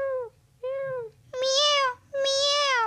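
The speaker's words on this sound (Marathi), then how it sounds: "Meow, meow." A cat meows four times in a row: two shorter, softer meows followed by two louder, longer ones, each drawn out with a rising then falling tone.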